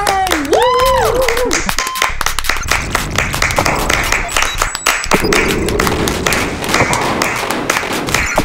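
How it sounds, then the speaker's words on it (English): Lively audience clapping at a musical comedy show, dense and steady throughout, with whoops and cheering voices on top, near and loud. "Clap! Everybody clap!"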